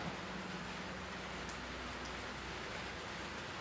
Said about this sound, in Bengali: আবার বৃষ্টি শুরু হলো অবশ্যই,